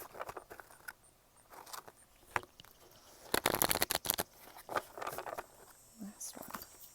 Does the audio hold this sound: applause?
no